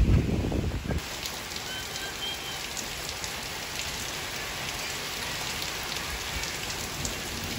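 Steady rain in Texas falls and patters on surfaces, a dense even hiss that continues throughout after a brief low rumble at the start.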